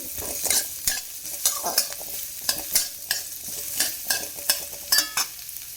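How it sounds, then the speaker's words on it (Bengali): A spoon stirs potatoes in a frying pan, giving repeated scraping strokes in an uneven rhythm over a soft, steady sizzle, close and fairly loud with no voices. "এই দেখো, আলুটাকে নাড়ছি।"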